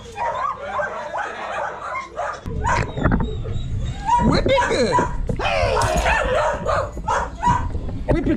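Muzzled greyhounds bark, yip and whimper excitedly at close range, with overlapping high cries and people talking over them.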